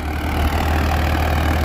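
A Farmtrac 60 tractor engine running steadily in a field, a loud, close, continuous low diesel rumble that holds unchanged throughout.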